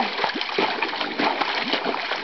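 Tess the dog splashes and paddles in a swimming pool, a quick string of close watery splashes and slaps over a couple of seconds.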